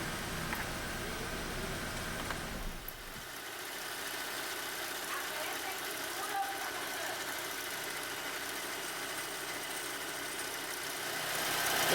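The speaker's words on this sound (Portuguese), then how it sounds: "aqui já com o carro ligado, olha como é que fica o atuador vibrando" A 2011 Citroën C4 1.6 16V idles steadily with a faulty clutch actuator vibrating, giving a continuous low engine hum with a faint buzzing rattle, fairly quiet and without voices.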